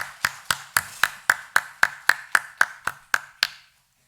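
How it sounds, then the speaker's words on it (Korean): Rhythmic applause from a church congregation during a Sunday morning worship service, about a dozen evenly spaced, sharp claps in unison that stop abruptly, fairly close and clear. "하나님께 감사와 영광의 박수 드리시겠습니다"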